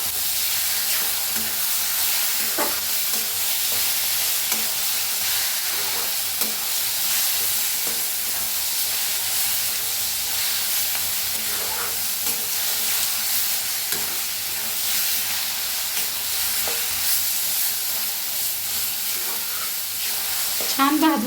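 Brinjal bharit mixture stirred and roasted in a pan, a continuous loud sizzle and hiss with repeated scraping and clinking of the spoon against the pan, close by and without talking.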